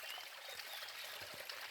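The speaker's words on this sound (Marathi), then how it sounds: "आपला जो शेताजवळील ओढा आहे तो कसा वाहत आहे" A farm stream swollen by rain flows down from the hills in a steady, faint rushing wash of water with no clear breaks.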